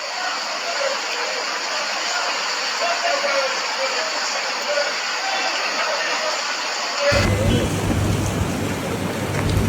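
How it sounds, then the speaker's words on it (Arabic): Heavy rain pours steadily in a strong thunderstorm in Algeria, a dense continuous hiss that shifts near the end into a deeper rumbling roar of rain and thunder. "أمطار كبيرة جدا."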